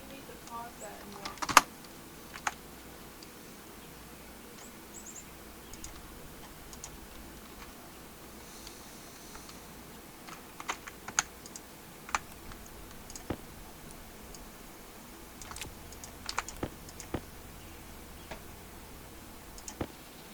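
Keys tapped on a computer keyboard during a Stationeers game session, sparse faint clicks in scattered bursts over a quiet background.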